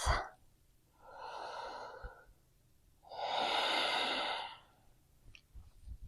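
Two long, strong breaths drawn and released during a yoga practice, a shorter one followed by a longer, louder one, close and clear with quiet pauses between.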